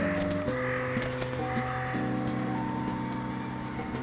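Crows caw repeatedly while scavenging a whole bag of French fries, their harsh calls loud over a steady outdoor rumble with sustained mechanical hums and scattered clicks.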